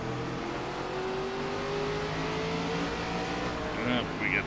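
Race car engine in an iRacing NASCAR ARCA West Series game at Irwindale Inner, droning steadily at high revs with a rising whine near the end of the straight and a brief squeal-like chirp, continuous and loud.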